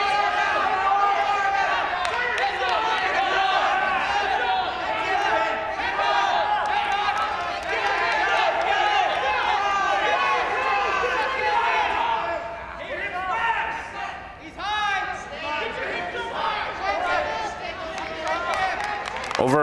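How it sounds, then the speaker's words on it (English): Spectators cheer steadily from one side of a high school wrestling match, Tunkhannock at Hazleton, a continuous crowd roar under a commentator's voice that dips briefly before swelling again. "Devin's got quite the cheering section off to our right"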